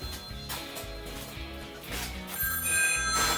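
A telephone rings near the end in a short burst of bright, bell-like tones, heard over background music with no talking.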